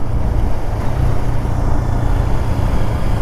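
A KTM Duke 390 single-cylinder motorcycle engine droning steadily at close range during a ride, with a continuous low rumble and road noise throughout and no distinct shift events standing out; no talking.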